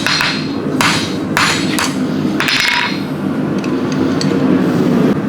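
A blacksmith hammers a hand-forged hook on an anvil, shaping the end into an eye, with several sharp ringing blows spaced irregularly over a steady background noise.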